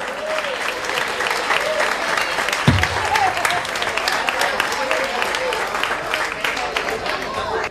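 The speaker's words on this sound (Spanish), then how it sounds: "Un fuerte aplauso para todos" A large crowd gives sustained, lively applause at an outdoor Marbella venue as a flamenco group is introduced. Scattered cheers and voices rise through the dense clapping, with one louder thump near the middle.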